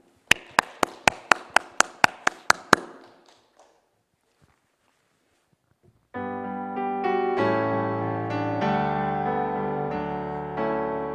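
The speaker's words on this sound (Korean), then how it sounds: "우리 하나님께 우리 감사의 박수 올려드리겠습니다" A congregation at a Sunday church service claps a short run of about ten sharp, evenly spaced claps, then falls silent before a sustained organ-like music passage begins.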